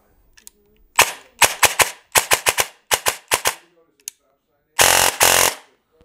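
Airsoft DSG gun with a Warhead brushless motor and a 3000 mAh Titan battery fires loud, close full-auto bursts: about a dozen short strings, then two longer sustained bursts near the end.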